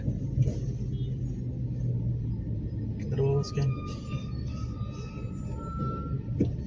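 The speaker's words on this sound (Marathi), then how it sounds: "चला आता आपली गाडी निघाली" A Tata Tigor car pulls away along a highway after a toll plaza, its steady low engine rumble and road drone continuous throughout while people talk inside the cabin.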